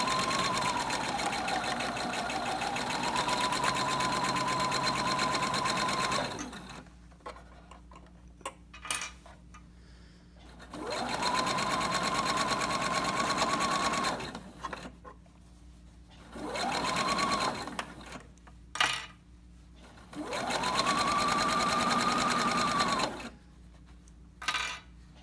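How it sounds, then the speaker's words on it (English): A sewing machine stitches a dust cover for a Cricut Maker, running in three long steady whirring bursts of several seconds each, separated by pauses filled with small clicks and taps of handling. "So follow one of these lines on your sewing machine"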